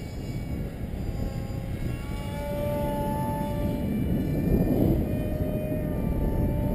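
A foam Su-37 profile RC model plane with a propeller drones overhead near full throttle, a steady whine that swells slightly as it passes closer, with no voices.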